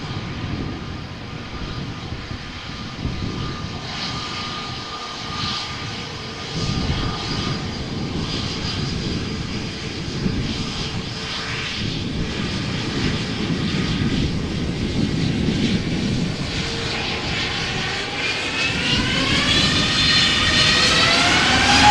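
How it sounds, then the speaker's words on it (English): Airbus A340 jet engines taxiing toward the runway at Schiphol Airport, a steady turbine roar that slowly builds and grows louder, ending with a rising high-pitched whine. "there's also an A340 going to the runway threshold on center."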